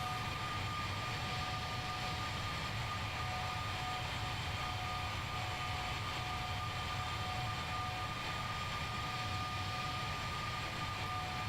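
A Boeing 767 taxis in Microsoft Flight Simulator 2020, its jet engines giving a steady, even roar with a faint high whine that holds unchanged throughout, with no talking.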